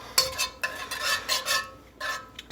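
Minced garlic stirred through hot oil in a pan for fettuccine Alfredo, a series of scraping, clinking stirs with a soft sizzle underneath, close and moderately loud, no talking.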